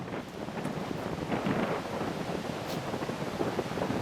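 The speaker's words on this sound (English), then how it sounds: "It's a field, it's been planted, and there's plenty of wind." Steady wind gusts over a planted open field on the Pratzen Heights, a continuous broadband rush with buffeting against the microphone and no voices.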